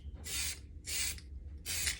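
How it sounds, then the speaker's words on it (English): A paint spray gun coats a 2500 HD Proline truck body in three short, evenly spaced hissing bursts, close and steady, with quiet gaps between them. "Cover as much as you can with each spray."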